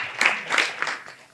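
Scattered audience claps at an ISKCON spiritual talk come in a few loose bursts, then thin out and fade over the short stretch.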